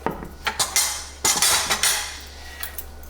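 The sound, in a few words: stirring cheese into beefy mac and cheese in a pot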